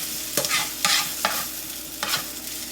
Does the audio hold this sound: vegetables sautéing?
yes